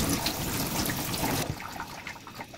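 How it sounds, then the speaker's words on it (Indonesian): Potatoes being washed under a running kitchen tap, a steady close splashing rush of water that drops to a quieter trickle partway through, with no talking. "Selanjutnya kita cuci kentang hingga bersih."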